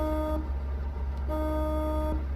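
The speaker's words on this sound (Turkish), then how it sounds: "Ama bir yankı var kornada" A steady, sustained truck horn in Euro Truck Simulator 2 blares in two long, slightly echoing blasts with a brief gap between, over a constant low engine rumble.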